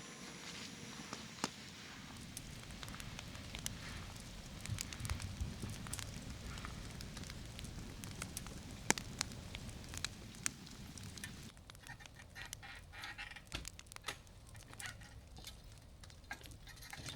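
A campfire burns outdoors at a truck campsite on a cold, rainy day, giving a steady crackle and low rumble with scattered pops and patter of rain; the texture thins and turns hissier near the end.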